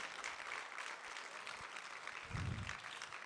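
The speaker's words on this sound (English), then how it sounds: "Can I have a big round of applause for these amazing 9 scholars at Kennesaw State University?" Steady applause from an audience fills the room, a dense patter of clapping that swells slightly near the end.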